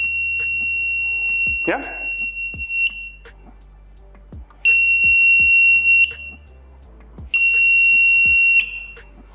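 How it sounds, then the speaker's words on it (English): A buzzer element from a snap-together DIY robotics starter kit emits three shrill, steady electronic tones, each held for a second or more with gaps between, loud and close, while a person says a word and handling clicks occur. "I'll snap light element first with power element and then the buzzer element."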